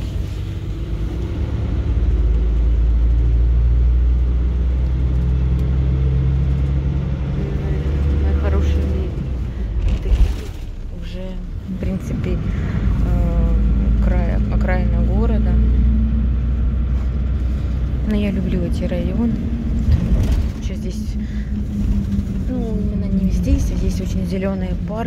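Steady low engine rumble and road noise from inside a moving city bus, continuous throughout at moderate loudness, with someone speaking over it and other voices now and then.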